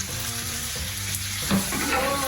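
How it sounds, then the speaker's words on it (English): Leeks sauteing over medium heat in a pan, a steady close sizzle with faint stirring, no talk. "You're basically going to saute this for about 15 minutes on about medium heat."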